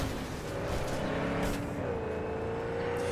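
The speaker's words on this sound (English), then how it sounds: "This car is like difficult to control." A car in the video game Starfield drives with a steady engine drone and a sliding pitch tone, running continuously at moderate level with no speech.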